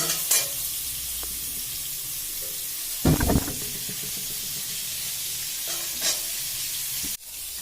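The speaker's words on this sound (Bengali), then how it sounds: "সুন্দর করে লাল লাল করে ভাজবো, তারপরে আমি রান্না করব।" Pointed gourd frying in oil makes a steady, moderate sizzle and hiss, broken by a short burst of scraping and stirring in the middle and a few light utensil taps.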